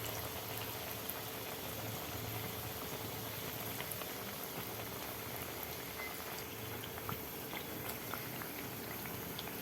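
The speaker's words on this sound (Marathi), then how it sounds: "वड्या तळून झालेल्या आहेत खूप करपवायच्या नाहीत" Colocasia leaf rolls (alu vadi) fry in hot oil, giving a continuous faint bubbling sizzle that stays even throughout with no talking.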